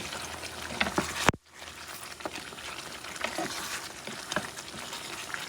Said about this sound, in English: Stir things a little bit.